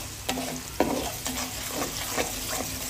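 Chili chicken being stirred in a pan over low heat, with a steady sizzle broken by several distinct scraping strokes of the spatula at irregular intervals, close and alone, without talk.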